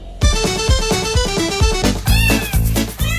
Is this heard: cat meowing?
yes